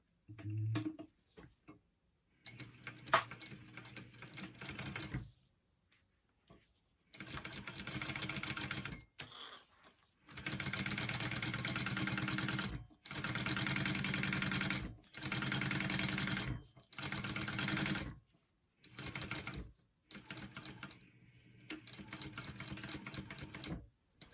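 A sewing machine stitches a pouch seam in several short bursts of rapid whirring, with stops and clicks between runs, close and fairly quiet.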